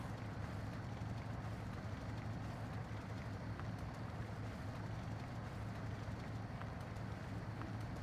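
A Cummins diesel truck engine in MudRunner drones steadily as it drives through mud on an autumn lakeside map, a continuous low rumble with no clear revs and no talking.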